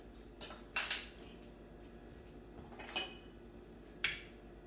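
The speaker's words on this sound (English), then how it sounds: "Now we gotta mix this" A utensil clinks and scrapes against a bowl while sugar cookie dough is mixed, faint and quiet with a handful of sharp taps spaced out over a low background hum.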